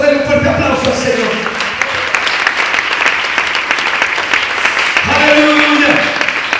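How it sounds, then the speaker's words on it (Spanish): A church congregation at a Sunday service breaks into sustained, dense applause that fills the room, while a preacher's voice speaks over the clapping. "Denle un fuerte aplauso al Señor."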